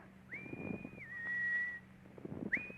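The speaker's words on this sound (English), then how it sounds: "you can just go ahead and whistle." A man whistles in an old-time radio drama: a clear sustained note that slides down and holds, then a short rising note at the end, over faint background shuffling.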